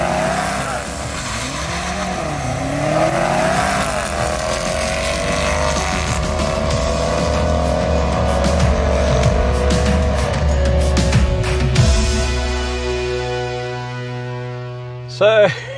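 A BMW M8 Competition convertible drag races a Range Rover Sport SVR from a standing start over a quarter mile, loud engine roar with rising gear-shift sweeps building steadily, then a sharp cut near the end and a brief burst.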